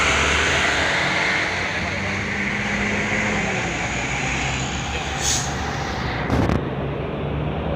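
Heavy engine rumble of a bus rolling past, steady and loud throughout, with a brief brake hiss near the end.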